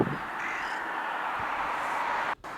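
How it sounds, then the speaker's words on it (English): Carrion crows and large-billed crows on a bridge in Yakumo, Japan, on a mild snowless January day, cawing faintly at a distance over a steady broadband background hiss. "Here you can see both species of crow, carrion crow and large-billed crow."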